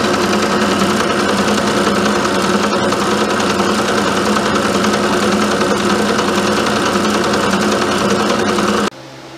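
A milling machine's fly cutter works steel bench vise jaws with a dense, steady, loud grinding whir that runs unbroken up close, then cuts off abruptly near the end.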